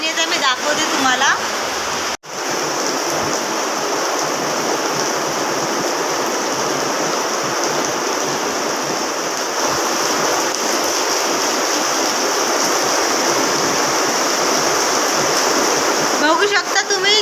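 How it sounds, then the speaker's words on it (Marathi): Heavy rain pouring down hard, a thick unbroken wash of falling water lasting throughout with one abrupt momentary cutout early on and rustling bursts at the edges. "बघू शकता तुम्ही किती जोराचा पाऊस येत आहे."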